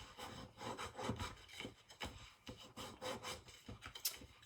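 A tool rubs back and forth over thick cardstock during album making, giving a close, quiet scraping and rubbing sound in quick repeated strokes.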